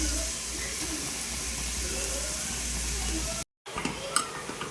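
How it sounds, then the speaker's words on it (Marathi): Carrots fry in ghee with a steady, close hissing sizzle that cuts out briefly near the end, followed by a few scraping stirs. "तुपात परतून घ्यायचं आहे."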